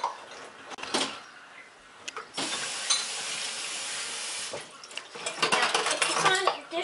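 Dishes and silverware clatter and clink as they are loaded into a dishwasher, with a long hissing rush of water filling the machine between bursts of close metallic rattling.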